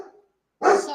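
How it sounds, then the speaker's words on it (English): A female dog gives one sharp, loud bark close by, preceded by a faint, trailing whine. "I'll just see what she's barking at."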